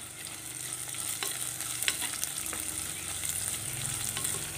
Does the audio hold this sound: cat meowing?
no